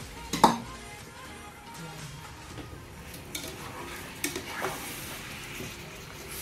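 Chicken and pineapple are stirred in a frying pan, with a spatula scraping and clinking against the metal in a few scattered strokes over a soft, low sizzle.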